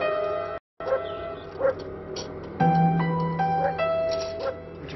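Puppies, five of them, give repeated high yips, short barks and whimpers in an irregular string, fairly close, with a brief gap of silence near the start and no talk over them.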